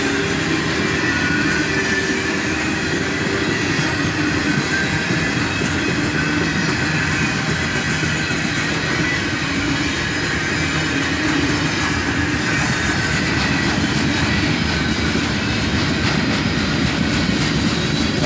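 A CSX military train led by KCS locomotives rolls steadily past at close range, a loud continuous rumble of wheels and cars with occasional squeals, no voices.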